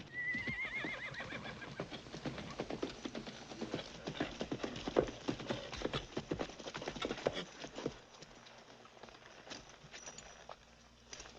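A horse whinnies near the start, then hooves clop in an uneven rhythm on hard ground, fading to quiet near the end.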